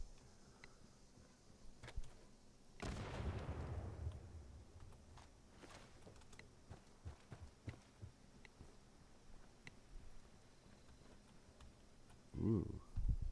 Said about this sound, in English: Here, have a grenade.